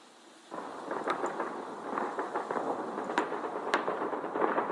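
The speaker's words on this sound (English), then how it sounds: "No, that's gunfire." Gunfire sound effect played during a tabletop game session: a muffled, rolling stream of distant shots and crackling bursts that starts abruptly and keeps going, resembling a storm, heard alone at moderate volume.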